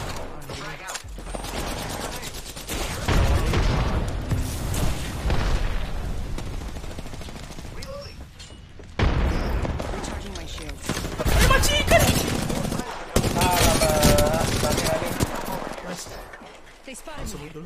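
Video game gunfire during a squad shooter match, bursts of rapid shots and impacts coming in clusters across the stretch, heard under frequent player chatter.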